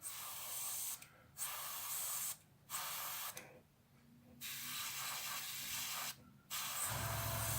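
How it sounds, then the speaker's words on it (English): Steady airbrush hiss spraying paint on a Mitsubishi Zero scale model in several bursts separated by short pauses, close and fairly quiet. "Taking your airbrush and just spray it in the"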